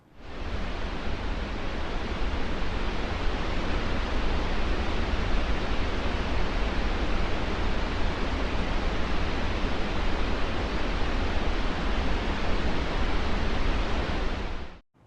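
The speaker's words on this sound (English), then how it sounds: "and that is pink noise." Steady pink noise, a soft, even hiss like light rainfall or rustling leaves, holds constant and fairly loud for about fifteen seconds before cutting off abruptly, with no voices.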